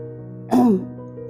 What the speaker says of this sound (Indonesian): Dia pun mulai berdehem sedikit keras.